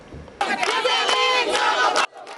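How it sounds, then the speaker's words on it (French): A dense crowd of women in Tivaouane-Diacksao raises its voices in protest outside the women's house, a loud sustained roar of overlapping shouts and chants lasting over a second and a half before cutting off. "Une foule compacte composée de femmes donne de la voix devant la maison de la femme de Tivaouane-Diacksao"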